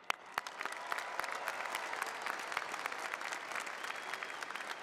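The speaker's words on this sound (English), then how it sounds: "Join me in applauding their work today." A university commencement audience applauds the band and mariachis with sustained clapping, individual sharp claps standing out against a broad, steady crowd roar.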